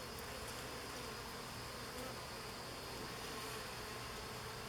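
Swarm honeybees on a hive frame hum in a steady, close, continuous buzz, a dense insect drone with no talk over it.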